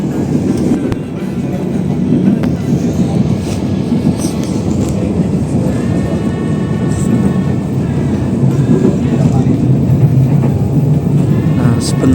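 A passenger train runs through Karanggandul station, a loud steady rumble of wheels and carriage noise from on board, with faint rhythmic clatter throughout.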